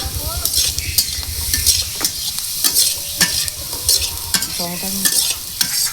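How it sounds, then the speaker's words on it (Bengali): Potatoes frying with salt and turmeric in a pan, stirred with a utensil that scrapes and clatters loudly against the metal in irregular strokes over a constant close sizzle. "হলুদ দেওয়ার পরে একটু নেড়ে দেবো।"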